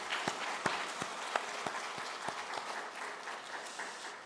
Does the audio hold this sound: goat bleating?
no